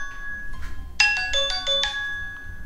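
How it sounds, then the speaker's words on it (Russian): An incoming call sets off a phone ringtone: a bright electronic melody of repeated tonal notes, loud and close, playing briefly on its own. "Кто-то неизвестный мне звонит."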